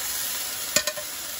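Pork chops in a cast iron pan give a steady background sizzle, broken by two quick scraping clatters close together as they are lifted out.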